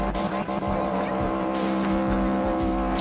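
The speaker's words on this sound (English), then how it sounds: "he's just shooting flames out them pipes" Cars idle and rumble at a virtual car meet in a video game while exhaust pipes pop and crackle with short bursts, heard under continuous excited talk.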